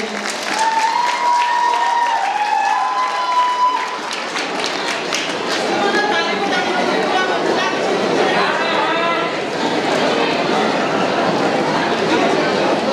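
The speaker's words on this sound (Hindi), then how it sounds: "जो लोग आवाज सुन रहे हैं, मुझे लगता है उनको ताली बजाना चाहिए।" Audience at a college annual function and prize-giving ceremony clapping steadily for over ten seconds, a dense crowd applause with voices and chatter mixed in.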